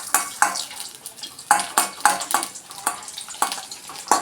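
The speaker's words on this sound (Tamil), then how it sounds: "இஞ்சி துவையலுக்கு வறுக்கிறேன்" Ingredients for ginger thuvayal, ginger with chillies and lentils, are roasted in a pan and stirred with a spatula, giving repeated scraping strokes over a light sizzle, close and rhythmic, with no talking.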